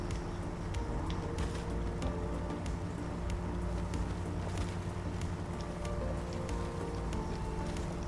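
Steady rain in the SnowRunner video game's Michigan swamp, a constant soft patter of drops on surfaces over a low rumbling hum, even and unbroken.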